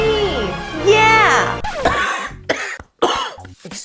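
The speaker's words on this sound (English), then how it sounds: "Excuse me for coughing." Someone coughs several times in short, harsh bursts close to the microphone, separated by brief pauses.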